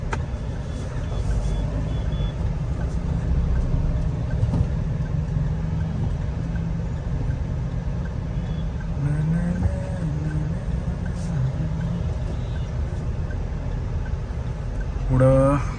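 A convoy of cars, including a new Mahindra Thar and a Swift Dzire, is on the move. A constant engine and road drone is heard from inside a vehicle, with faint voices and a short tonal beep near the end.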